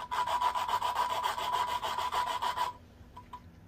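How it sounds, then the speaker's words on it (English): Valve seat cutter grinding steadily inside a Farmall Cub engine head, a close, raspy, rhythmic scraping for under three seconds before it stops and leaves quiet room noise. "You can hear the difference in the sound once you start cutting and you get a nice straight seat"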